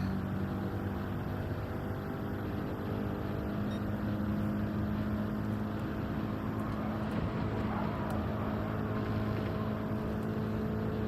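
A racing car engine in Gran Turismo 7 drones steadily and loudly at a constant pitch, a continuous engine hum with no pauses and no talk.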